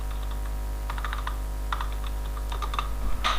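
Keys on a computer keyboard clack in short irregular bursts while code is typed, close and fairly clear over a steady low hum, with no voice.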